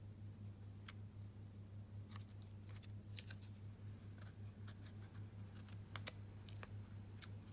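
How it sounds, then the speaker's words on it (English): Scissors trim the edges off a piece of card paper during card making. Sharp, irregular snips and clicks are scattered over a steady low background hum, with no talking. "Because this was just an off piece, I'm just going to trim that edges off a little."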